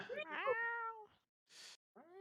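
A cat meows plaintively a few times, drawn-out whining cries close to the microphone in an otherwise quiet room, with a short breathy noise between them.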